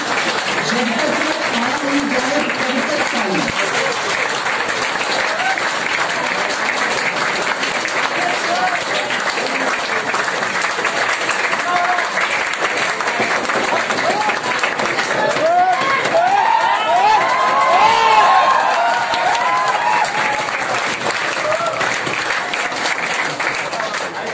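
An audience at an anniversary celebration party claps loudly and continuously to welcome a guest speaker, a dense sustained wash of applause with scattered voices and cheers mixed in.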